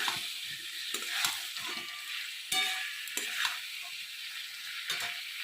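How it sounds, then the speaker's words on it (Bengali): Potatoes fry in a wok (kadai) while being stirred, a bright, constant sizzle with sharp spoon scrapes landing every second or so, close and clear, with no voices. "আলু যা ছিল আমি এর মধ্যে কড়ার মধ্যে দিয়ে দিলাম দিয়ে ভালো করে আমি নেড়ে নিলাম"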